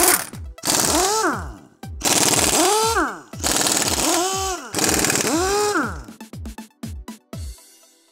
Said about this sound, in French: On enlève la roue.